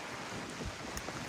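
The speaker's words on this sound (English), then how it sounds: "It's really windy too." Steady wind buffeting the microphone, a constant broadband rush with a few low thumps of gusts, no voices.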